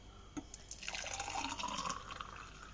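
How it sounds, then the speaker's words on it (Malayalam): Strained musambi (sweet lime) juice is poured into a glass. The steady liquid stream rises in pitch as the glass fills, heard close and clear with no talking. "ഇനി നമുക്കിത് ഗ്ലാസ്സിൽ ഒഴിച്ച് കൊടുക്കാം."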